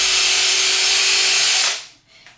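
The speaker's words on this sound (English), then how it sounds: "So I'm going to drill a hole right through the center" A power drill with a 1/8 inch bit whines steadily at high pitch for about a second and a half while boring a pilot hole through the center of a bird toy part, then stops abruptly, leaving near silence with a faint rattle.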